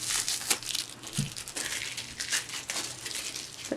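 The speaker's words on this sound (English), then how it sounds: "So I'm just gonna take the tape off here." Tape peeled off a roll of burlap: a continuous crinkly, tearing rustle, close and fairly soft, with small crackling bursts throughout.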